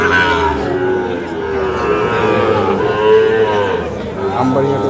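Sahiwal bull calves at a busy livestock market, with one long, loud, low moo rising over the steady din of the crowd.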